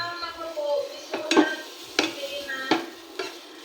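Sliced white onion and shrimp sautéing in a pan, with a steady soft sizzle under repeated sharp clinks and scrapes of a utensil stirring against the pan, close up.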